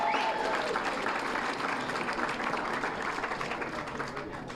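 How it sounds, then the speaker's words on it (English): An audience claps steadily at an election night event, a dense, sustained wash of applause that tapers slightly toward the end, with no voices over it. "Give her a round of applause."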